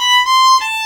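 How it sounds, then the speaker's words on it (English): A single bowed violin note slides up in a romantic (Russian) shift, the new finger gliding quickly into the higher position, heard as a short, bright sustained tone with a brief upward scoop, solo and close. "The other option is the romantic or the Russian shift,"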